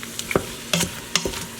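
Pork and curry paste sizzle and get stirred in an Instant Pot on sauté mode, a few short scraping clatters and spatters over a soft steady frying hiss, close and fairly quiet.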